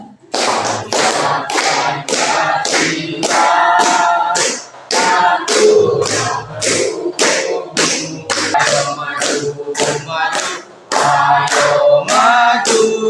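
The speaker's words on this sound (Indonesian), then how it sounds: "boleh dibantu dengan tepuk tangan ya" Audience clapping along in steady rhythm to a song in an Indonesian classroom teaching session, loud and close with regular beats continuing throughout and brief pauses between phrases.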